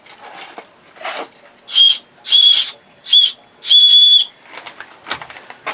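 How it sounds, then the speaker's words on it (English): A keychain safety whistle, sold with a seatbelt cutter and glass breaker, gives four loud, shrill blasts close by, the last held longest, with quieter handling noise between them. "Got a rape whistle."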